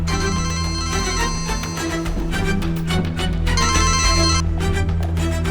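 A telephone rings in a trilling electronic pattern, repeated bursts sounding over a steady low background drone, fairly loud and continuous.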